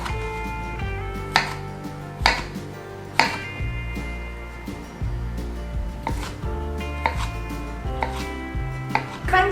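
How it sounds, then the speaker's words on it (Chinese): Knife dicing tomatoes and fresh shiitake mushrooms into cubes on a cutting board for a vegan tomato sauce, with steady close chopping taps under soft background music. "我们把番茄跟鲜香菇把它切成丁状"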